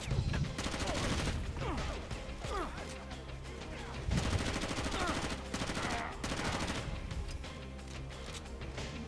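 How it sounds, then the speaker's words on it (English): Far Cry gunfire aimed at the player, with repeated bursts of shots and crackling rounds, moderately loud and continuous with short gaps, mixed with game noise. "I'm getting shot at."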